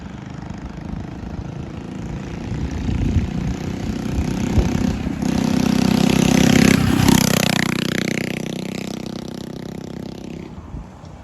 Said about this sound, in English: Some backfire.